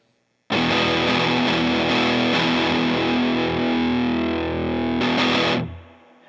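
An electric guitar through a Big Muff Wicker fuzz pedal with its tone switch on and the controls at noon gives a loud, thick, distorted chord that sustains for about five seconds, then a brief restrike before it fades.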